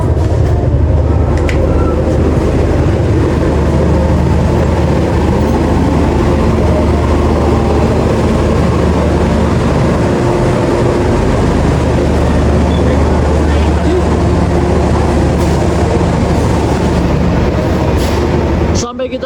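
KA Kamandaka New Generation passenger train pulling into Purwokerto station, a steady loud rumble of rolling carriages heard from on board, with talk over the continuous noise throughout.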